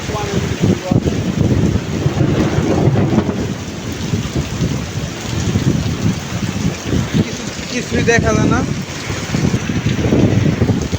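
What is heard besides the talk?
heavy rain and wind during a storm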